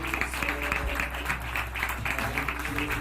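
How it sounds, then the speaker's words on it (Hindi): Applause welcomes a pastor at a Hindi morning prayer gathering, a steady patter of clapping heard at moderate volume over a constant low electrical hum. "जिसे कि हम परमेश्वर के दास अभिषेक पास्टर पीजे स्टीफन पॉल जी का स्वागत करेंगे तालियां बजाते हुए।"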